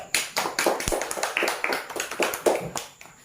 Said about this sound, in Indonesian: Tepuk tangan untuk Mbak Pri.